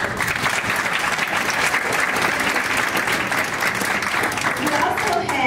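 Sustained, loud audience applause at a school board meeting, a continuous wash of many hands clapping throughout with a faint voice underneath.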